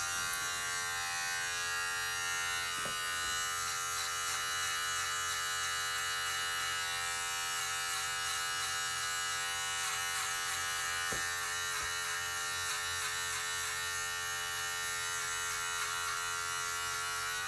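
A Babyliss hair clipper fitted with a half-inch guard buzzes steadily and close while cutting hair, a continuous even drone with slight wavering.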